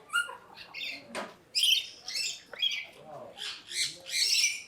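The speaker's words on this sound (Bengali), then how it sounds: "পাখির কিচির মুচির গুলো যা অসাধারণ লাগতেছে" Parrots in a cage at Gazipur Safari Park give a series of sharp, scratchy chirps and squawks in irregular bursts, close by and moderately loud.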